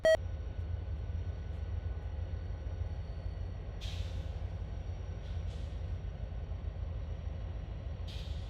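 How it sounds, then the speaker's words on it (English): A radio scanner with a dying battery gives a few short, scattered beeps at a trackside railfanning spot, heard over a steady low rumble. "I do apologize for the beeping."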